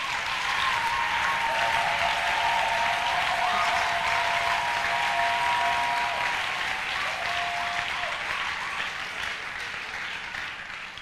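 A church congregation applauds, sustained dense clapping from a crowd filling the room, gradually tapering off toward the end.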